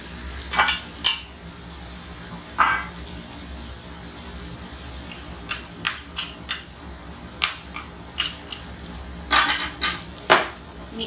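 Prawns cooking in a pan with chili flakes and salt over a low flame, heard as scattered utensil clinks and scrapes in short bursts against a quiet background, with no voices.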